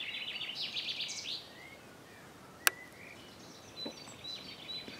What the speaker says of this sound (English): Lovely sounds of the wind and the trees and the birds in springtime here again.